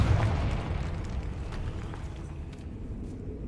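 An explosion spell goes off in a Harry Potter video game, a heavy rumbling blast that rolls on and slowly fades over a few seconds, loud and without speech.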